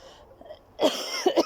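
A few harsh, close coughs in quick succession, loud and dry, following a quieter stretch with faint background noise.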